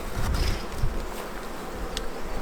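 Honeybees buzzing around an opened hive during a colony inspection, a steady close drone of many wings with a few louder individual bees passing near, heard alone.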